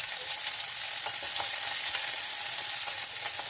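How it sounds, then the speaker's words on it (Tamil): Onions frying in hot oil with popped mustard seeds: a soft, even sizzle with light crackles and occasional faint stirring taps, fairly quiet and without any talking. "கடுகு பொரிஞ்சதும் வெங்காயம் சேர்த்துக்கிறேன்."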